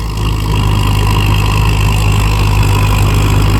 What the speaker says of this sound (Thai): วันนี้อยู่กับรถไถตีตะขาบนะครับ